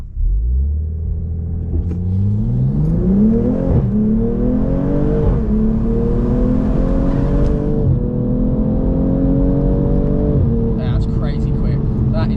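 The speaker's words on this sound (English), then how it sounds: "We'll do a first gear pull on a private road." A BMW M240i engine pulls hard close by in first gear from a standstill on a private road, its roar climbing in pitch, dropping briefly, then climbing again as it accelerates, with some voice underneath.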